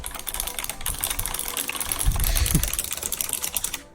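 Keys on a Razer computer keyboard click in quick, continuous, fairly loud bursts, with a few duller thumps mixed into the steady clatter and no voices.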